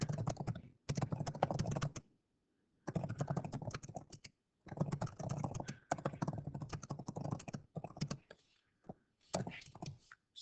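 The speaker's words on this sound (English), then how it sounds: "I'm just going to type my answer." Rapid keystrokes on a computer keyboard come in several bursts separated by short pauses, close and fairly quiet, with no voice over them.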